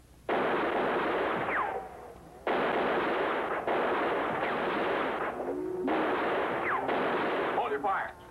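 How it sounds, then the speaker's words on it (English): Gunfire in a Western shootout: loud, broad bursts of shots and blasts come in several long waves over the scene, with voices mixed in. "Hold your fire. Put down your guns."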